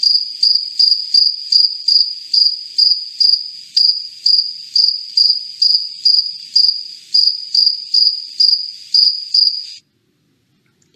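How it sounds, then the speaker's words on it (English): Steady, evenly spaced cricket chirps in quick pulsed bursts, close and clear against an otherwise silent night, stopping near the end. "If you didn't know who was making this sound before, now you do. They are called crickets."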